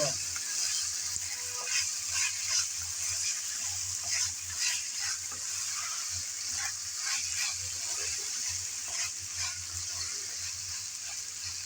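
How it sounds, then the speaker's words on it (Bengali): Chicken pieces frying in a pan for a spicy juicy chicken fry, a continuous hissing sizzle broken by repeated scraping stirs, close and steady for several seconds with no talking. "সবগুলো চিকেন দেওয়ার পর নেড়েচেড়ে ভালোভাবে ভেজে নেব।"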